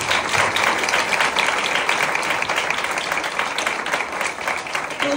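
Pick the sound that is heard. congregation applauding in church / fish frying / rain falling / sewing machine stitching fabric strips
congregation applauding in church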